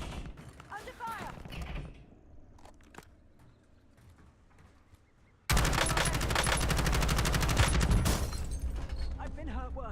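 Gunfire in the video game Warzone: a sudden loud, sustained burst of rapid automatic shots cuts in halfway through and continues to the end, after quieter scattered sounds and faint chirps.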